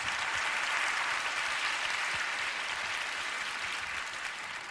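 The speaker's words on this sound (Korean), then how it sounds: "저를 큰 박수로 환영해 주시니까 몸둘 바를 모르겠습니다." Warm applause from a seated congregation welcoming a speaker at a prayer gathering, a dense, continuous crowd of clapping that holds steady and tapers a little near the end, with no voices.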